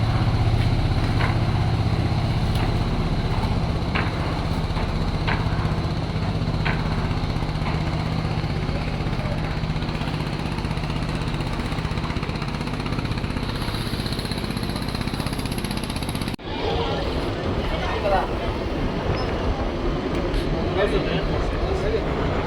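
A passenger launch's engine drones steadily as the riverboat departs from Char Fasson, Bhola, a loud continuous rumble with someone talking over it.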